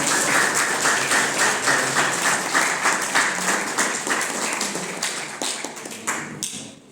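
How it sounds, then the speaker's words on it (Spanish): Dense, steady clapping from a school audience welcoming a speaker to a short-story reading, loud and continuous before thinning and fading out near the end. "Vamos a dar un aplauso de bienvenida."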